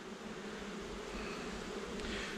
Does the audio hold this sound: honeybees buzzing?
yes